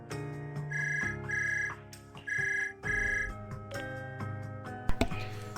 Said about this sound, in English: Suddenly a phone rings.